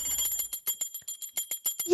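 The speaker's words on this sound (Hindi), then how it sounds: "घंटी सुनाई दे रही है मुझे।" A small puja prayer bell is rung rapidly in a Hindu household worship, giving a quick series of bright, tinny strikes that repeat steadily at close range.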